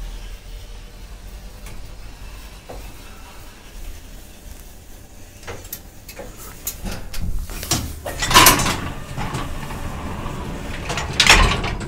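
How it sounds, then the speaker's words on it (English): Door mechanism of a 1960s Evans elevator operating, with scattered clunks and sliding rumbles building to two sharper metallic bangs near the end, moderately close with no talk. "Door mechanism's weird."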